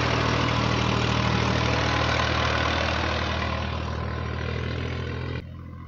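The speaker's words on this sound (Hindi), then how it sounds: "भाई ट्रैक्टर से खेत में बान कर रहे हैं।" Tractor engine running steadily while tilling a field to prepare the ground for mustard sowing, a loud close droning rumble that fills the clip and drops slightly in level near the end.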